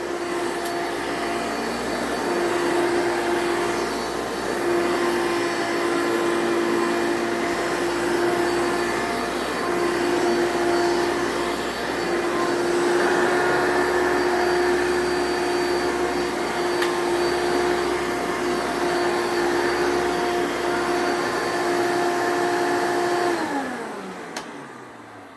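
Hoover Power Max 2 upright vacuum cleaner running steadily on carpet, a loud close motor whine with a sustained tone that holds for over twenty seconds, then winds down as it switches off at the end.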